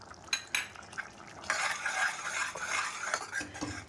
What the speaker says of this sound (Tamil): இந்த ஸ்டேஜில் நான் கொத்தமல்லி போட்டுறேங்க நான்.